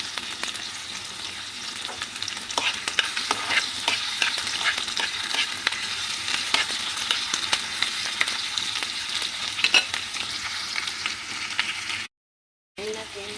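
Ginger sizzles in a frying pan while being stirred, an early step in cooking adobo-style fish. A continuous close sizzle is broken by scattered utensil scrapes and cuts out briefly near the end.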